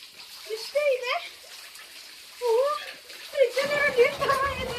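Water splashes as a family plays in a resort pool at Sirumalai, with voices and children's chatter over the sound and the splashing growing busier toward the end.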